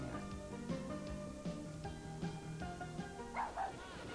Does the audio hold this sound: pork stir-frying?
no